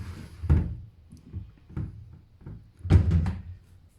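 A drawer on slides in an Arçelik 2171 DY No Frost deep freezer is pulled and pushed, giving a run of soft thunks and sliding knocks with two louder clunks, close up and without speech.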